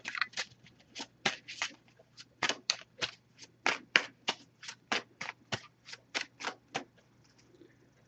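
An oracle card deck is shuffled by hand in a quiet room, producing a rapid series of crisp riffling bursts and soft taps in uneven rhythm, close and clear.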